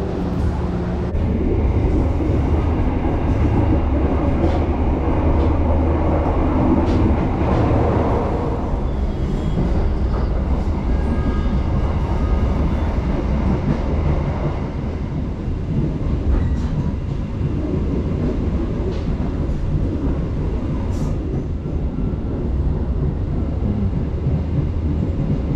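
The Sibinuang local passenger train arriving at Duku station, West Sumatra, rumbles steadily and loudly at close range for a long stretch, with rolling wheel noise and occasional metallic squeals and clanks.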